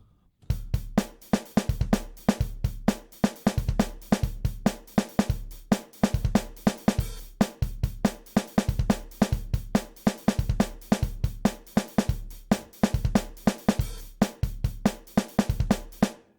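A programmed drum break pattern loops steadily with punchy bass drum, cracking snare and bright open hi-hat, the syncopated breakbeat groove repeating at an even tempo, loud and close with no voices.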